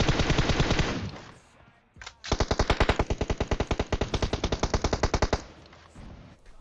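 Rapid bursts of automatic gunfire in PUBG Mobile, a short volley, a brief pause, then a long steady rattling stream of shots, loud and close, with no talking.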